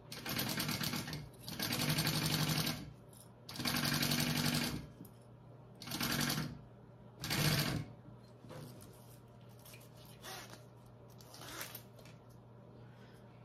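Sewing machine basting fabric bag panels sewn right sides together, stitching in several quick bursts of whirring needle chatter with short pauses, the later runs shorter and quieter.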